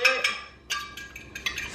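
Egg and milk whisked in a bowl, the utensil clinking against the sides in quick bursts of scraping and tapping, close and moderately loud with short pauses between strokes.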